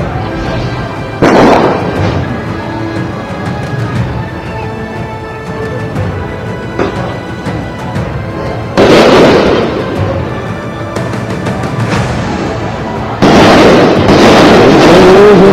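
Gunfire during unrest in Kathmandu, Nepal: several loud, sharp bursts of bangs and crackling rise out of steady, noisy street commotion, with the heaviest volleys arriving near the middle and toward the end.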